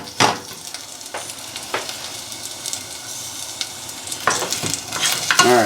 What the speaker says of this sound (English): we're just going to saute these until they're at least a little bit cooked